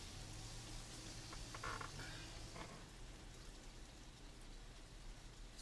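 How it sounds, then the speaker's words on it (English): Heavy rain pours down outdoors as a steady, dense hiss of drops striking surfaces, with no voices, continuous and moderately distant throughout. "It is literally pouring down rain outside."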